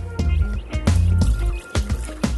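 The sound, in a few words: pouring key lime sorbet mixture into sorbet machine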